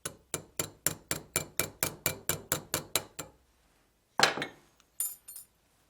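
A broken 1/32-inch drill bit being tapped out of a Schrade push-button pocket knife: about thirteen sharp, evenly spaced metallic taps in a steady run, then a pause and a few louder, scrappier knocks and clinks close by.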